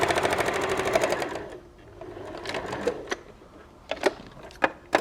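A sewing machine stitches a seam through fabric and wadding for a microwave potato bag, running steadily and close for over a second, then falling to scattered clicks and knocks.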